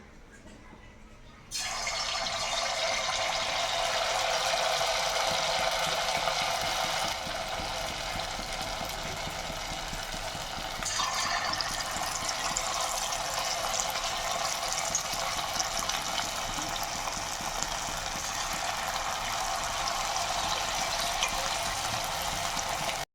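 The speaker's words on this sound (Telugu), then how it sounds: "ఇప్పుడు ఆయిల్ వీటెక్కింది కదా అందులోకి ఈ చికెన్ వేసుకుందాం" Chicken pieces dropped into hot oil, an abrupt onset of loud continuous frying hiss that holds steady for the rest of the clip, close and alone.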